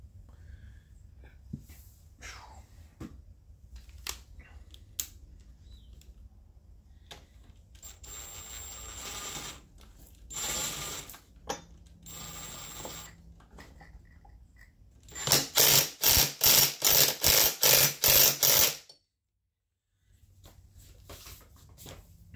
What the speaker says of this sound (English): That's just a 1/4 inch drive, impact driver. It ain't gonna over tighten that flywheel.